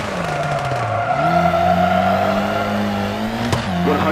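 Rally car engine in the game WRC 2 on a Portugal stage, droning loudly then dropping as the handbrake is pulled, followed by a sustained skid and tire squeal as revs climb again, close and continuous with no talk.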